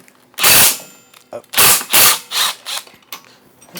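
A power tool unbolts long bolts from a DIY solar battery pack, firing several loud, close mechanical bursts separated by short pauses.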